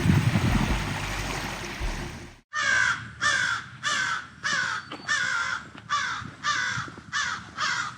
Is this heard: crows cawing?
yes